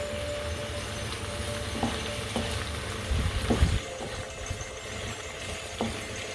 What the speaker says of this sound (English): now this has to just fry for about 2-3 minutes because I don't want the rawness of the onions and garlic